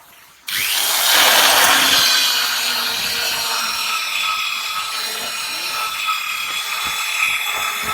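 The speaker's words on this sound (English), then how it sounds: "drilling the hole" A power drill bites into a 25-millimeter-thick roller stand part for a roll forming machine and runs steadily, a loud, close, grinding whine that holds for several seconds without talking.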